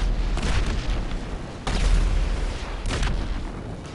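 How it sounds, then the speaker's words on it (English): Bombs exploding in the video game GTA V: deep booming blasts land in quick succession, one near the start, a heavier one midway and another toward the end, over a constant low rumble. "Bombs incoming. Take cover and target zone."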